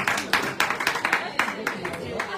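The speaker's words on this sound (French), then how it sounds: "on applaudit Mohamed" Audience clapping for a performer at a Moroccan chaabi drum show, a burst of scattered, rhythmic handclaps from a small crowd, fairly close and lively.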